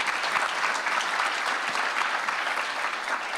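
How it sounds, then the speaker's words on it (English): An audience at a mayor's prayer breakfast applauds students and sponsors, giving dense, sustained clapping that stays even and fairly loud from start to finish with no voices. "Let's give a round of applause to the students and to the sponsors."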